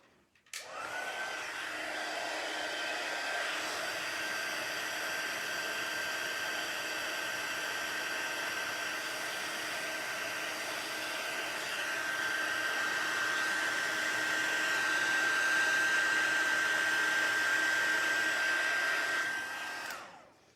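A heat embossing tool blows hot air in one continuous, steady whooshing roar with a faint high whine, running unbroken for about twenty seconds before cutting off, with no voices.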